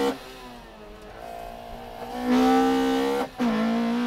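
A Toyota MR-S sports car blasts through a left-hand 90-degree corner after a hairpin on a mountain pass during a head-to-head touge battle, its engine revving hard and rising in pitch, briefly dropping off on a shift, then pulling strongly again, loud and close.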